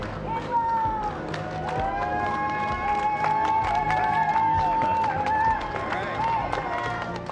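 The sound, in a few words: small crowd cheering NASA astronauts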